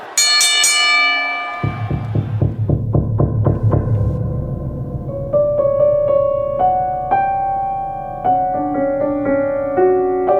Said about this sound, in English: at the sound of the bell, it's Sinister Sightings time